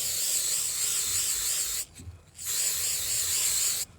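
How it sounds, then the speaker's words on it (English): Two long, steady hissing sprays of aerosol hairspray used as fixative on a chalk pastel drawing, close and loud, separated by a short pause with faint handling noise. "I'm going to tap the rest of the dust off and just really lightly give this a spray"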